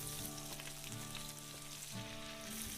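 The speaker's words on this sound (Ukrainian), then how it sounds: "Додаємо вершкове масло," Butter melting in a hot pan gives off a steady, close sizzle that runs evenly for a few seconds, with a sustained tonal hum underneath.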